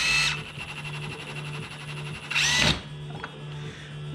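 An engine pulley is ground with a power grinder in two loud, harsh bursts, one at the start and a longer one later, between stretches of steady motor hum in a workshop.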